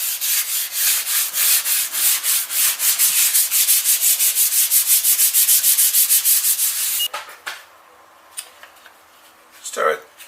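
Sandpaper rasps back and forth over metal being prepared for primer in a restoration, a steady run of close, even rhythmic strokes for about seven seconds, then it stops and only a few faint knocks and a brief clatter follow.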